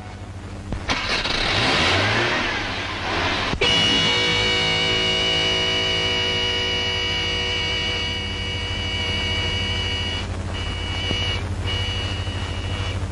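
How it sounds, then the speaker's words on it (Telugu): A car engine turns over and catches, then revs and runs steadily as the car pulls away, with a sustained horn-like tone sounding over the engine, in a Telugu feature film scene. It is fairly loud and close, with no talk. "నువ్వు హారన్ శబ్దం చేసుకుంటూ వెళ్ళు"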